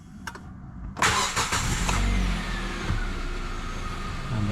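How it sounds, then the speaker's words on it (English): A Hyundai i30 FD hatchback starts after an ignition antenna repair: a soft click, then a brief crank as the engine fires and settles into a steady idle, close by with no talk. "I'm going to start the car."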